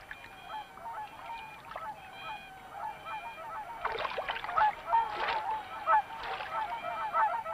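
Whooper swans in Hokkaido, Japan, preparing to migrate north to Siberia, call in honking, bugle-like notes, first sparse and moderate, then a denser, louder chorus of overlapping calls in the second half.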